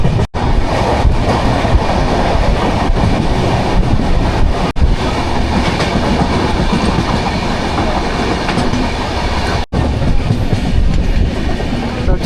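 Loud, steady rumble and clickety-clack of a long-distance passenger train bound for Secunderabad running on rails, heard from on board with wind noise and brief dropouts, and no talk.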